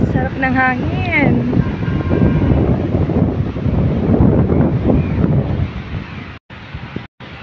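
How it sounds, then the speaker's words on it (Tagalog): Steady wind rushes over the microphone by Inya Lake in Yangon, Myanmar, in a loud continuous roar, with brief gusts and a couple of sudden dropouts near the end. "Sarap ng hangin."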